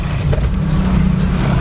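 A motorbike passes on a street during a family's Ramadan outing, a steady close engine rumble that holds low and loud through the moment, with no talk over it.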